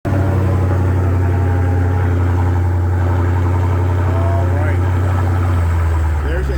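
A car engine running just after being started, a loud, steady low rumble with a regular pulse, with people talking over it.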